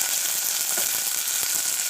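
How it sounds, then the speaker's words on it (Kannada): Tomatoes frying in oil for a ridge gourd and chana dal kootu, a brief, loud, even hiss of sizzling that runs unbroken and close, with no voices. "ನಾನು ಸ್ವಲ್ಪ ಹೊತ್ತು ಟೊಮೊಟೊ ಸಾಫ್ಟ್ ಆಗೋಂತ ಫ್ರೈ ಮಾಡ್ಕೊತೀನಿ ಈ ಥರ."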